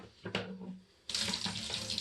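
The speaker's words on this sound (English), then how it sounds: "I refill it with boiling water and continue cleaning inside" Boiling water poured into the coolant tank of a Honda VFR750 motorcycle: a brief splash, then a steady, loud rushing pour that fills the last second without pause.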